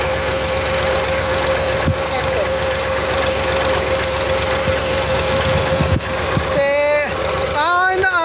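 A tractor engine idles steadily up close, a constant low throbbing hum throughout, with a person talking over it near the end.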